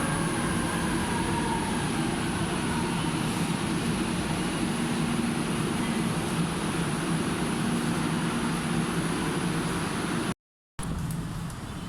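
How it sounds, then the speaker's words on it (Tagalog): An MRT metro train on EDSA arrives at a station, rumbling steadily with a thin high whine over a broad roar; it cuts out briefly near the end, then the rumble continues. "Yan na po yung MRT kadarating na"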